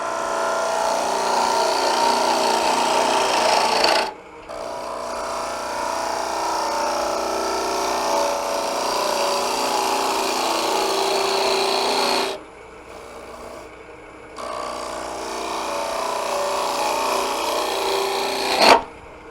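Hollowing tool cutting a wooden bowl on a woodturning lathe for a bird's-mouth bowl, giving a loud, steady raspy scraping in long continuous passes broken by brief pauses, close up and without talk.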